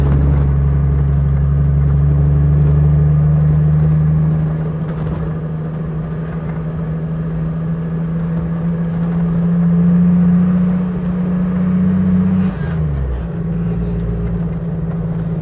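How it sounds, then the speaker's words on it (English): Jeep YJ engine in 4 high climbing a snowy hill, a steady loud low drone holding pitch, then easing off briefly and dropping in tone near the end as the driver lets up. "Okay, pulling this hill, no problem. I need downshift. I'm in 4 high."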